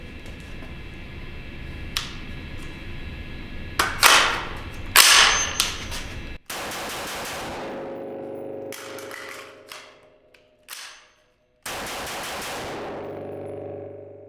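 A Springfield Hellion rifle fires during a magazine-change drill, with sharp, loud nearby shots in separate bursts. Clicks and handling noise fill the gaps between strings of fire, and no one speaks.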